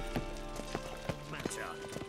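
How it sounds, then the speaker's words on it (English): Horse hooves clip-clop in a brief uneven rhythm, close by and mixed with a voice speaking over them, in what sounds like a dramatic scene with dialogue. "Horse."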